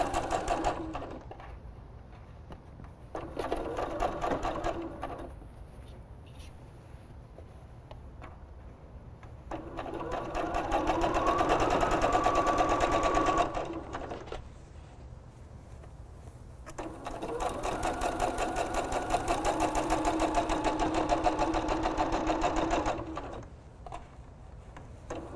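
A sewing machine stitching a seam through a bath towel with matching thread, running in long steady bursts separated by short pauses, close and fairly loud.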